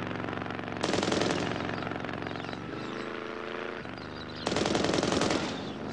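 Sustained bursts of automatic gunfire, a loud rapid rattle that surges in two strong bursts with steadier firing between them, heard alone with no talk, in a Ultraman Great episode scene.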